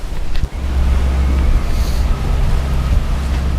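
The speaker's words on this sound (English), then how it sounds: "Doing some serious speed now by engine." A sailboat motoring at speed under engine through a narrow sound between Shetland and the Faroe Islands, with a steady low engine drone, rushing water and wind buffeting the microphone, close and loud.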